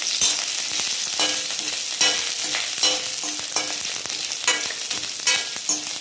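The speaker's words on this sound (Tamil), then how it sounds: "இப்போ சின்ன வெங்காயம் ஒரு 8 சின்ன வெங்காயம் 8 பல் பூண்டு எடுத்து வச்சிருக்கேன். அதை சேர்த்துக்கலாம். இப்போ நல்லா வதக்கிக்கலாம்." Eight small shallots and eight garlic cloves sauté in hot oil for a peanut chutney, giving a steady close sizzle with frequent spoon scrapes and clinks against the pan throughout, with no voices.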